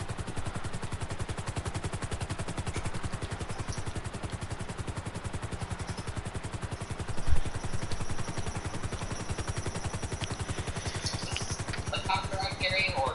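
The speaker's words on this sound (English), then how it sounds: "That's the helicopter through someone's TV." A steady, rapid thudding of helicopter rotor blades, continuous and moderately loud, sounding slightly distant and muffled as if coming through a speaker.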